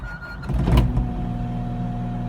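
A car engine cranks and catches after an oil change, a short starter burst followed by a steady, even idle with a faint high whine, close by and with no talk.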